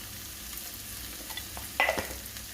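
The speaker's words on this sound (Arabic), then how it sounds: "حرك كامل التوابل" Spices such as turmeric, ginger and black pepper being stirred in a frying pan, a faint low sizzle with a few soft scrapes and one brief clink near the end.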